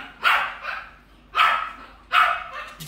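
A dog barks three times in short bursts, loud and close, during a grooming session as a deep-cleansing treatment for oily skin and greasy coat is applied.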